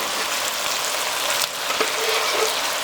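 Chicken pieces and onion sizzle and crackle in a hot pan over high heat for Uzbek mastava, a steady dense frying hiss up close with a few sharper pops.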